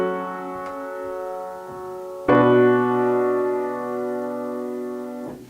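Sustained piano-like chords in a short progression whose roots move a fourth apart, one soft chord followed by a louder, ringing chord around the midpoint that holds and decays, heard alone.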